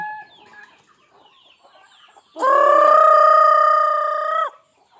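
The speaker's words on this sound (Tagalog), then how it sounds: "Yan ay manok." A farmyard chicken lets out one loud, drawn-out call lasting about two seconds, close by, after a stretch of faint background chatter and clucks.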